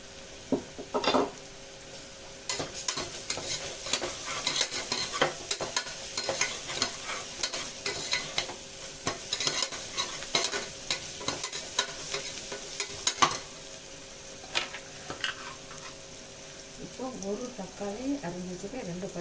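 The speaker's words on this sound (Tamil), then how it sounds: "மிளகாய் புதினா கொத்தமல்லி நல்லா வதங்கட்டும்" Ginger, garlic, chili, mint and coriander are sautéed and stirred in a pan, with soft sizzling under frequent scraping and clinking of a spoon against the pan, continuing throughout at moderate loudness.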